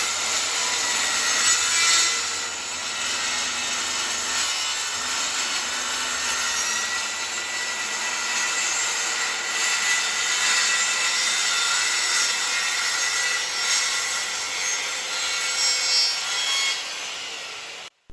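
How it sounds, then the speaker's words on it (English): A saw cutting through hardwood plywood, a continuous rasping, grinding cut held at steady loudness for about seventeen seconds before stopping, close to the microphone with no voices. "cutting into the sandwiched sides of the hardwood plywood"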